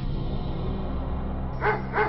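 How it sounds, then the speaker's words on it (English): Dog barks twice in quick succession near the end of a short cartoon scene, set over a steady background music bed. "The fierce dog thrust its nose into the duckling's face and ran off."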